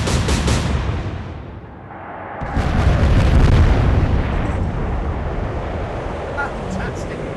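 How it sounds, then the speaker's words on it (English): A loud shipboard explosion in the naval combat game Atlantic Fleet, a sudden heavy blast that swells into a long rumbling roar, with a voice talking over parts of it. "Obviously there was an explosion aboard that ship."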